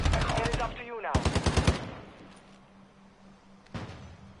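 A full magazine emptied in Call of Duty Warzone 2, a dense rapid burst of close, loud gunfire followed by a second quick volley, then fading to a quiet hum and a single later impact.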